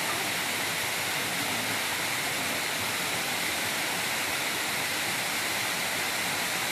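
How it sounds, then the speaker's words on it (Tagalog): A small waterfall of very clear water in a rocky hillside spot gives a steady, dense rushing roar, close and continuous, with no voices or other sounds over it. "maliit na talon."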